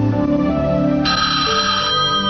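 A telephone rings loudly and close, an electronic ringtone tone that holds steady then shifts pitch partway through, with no voices.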